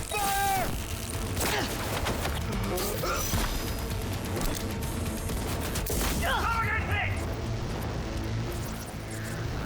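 Rapid gunfire and crashing impacts in a firefight in the video game Cyberpunk 2077, steady and dense throughout with mechanical clatter and brief speech over it.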